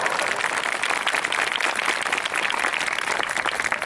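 Dense, sustained applause from a church congregation praising God during a Hindi sermon, steady and loud throughout with no gaps.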